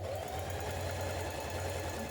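A sewing machine stay stitches around the front neck edge of a jean jacket yoke, a steady quiet mechanical whir running continuously for about two seconds.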